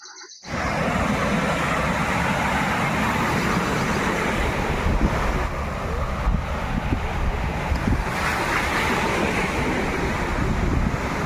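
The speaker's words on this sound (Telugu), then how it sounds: "ఈ అలలు" Continuous roar of sea surf washing onto RK Beach in Visakhapatnam at night, broad and steady, with wind rushing across the microphone; no voices.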